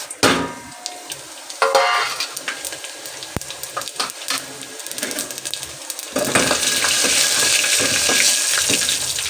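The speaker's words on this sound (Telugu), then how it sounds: "ఆయిల్ వేరెక్కినాక ఉద్దిపప్పు, ఆవాలు, జీలకర్ర, ధనియాలు వేసుకుందాం." Urad dal, mustard, cumin and coriander seeds tempering in hot oil for a village-style bendakaya pulusu, a sudden hiss and crackle partway through that settles into steady, loud sizzling frying.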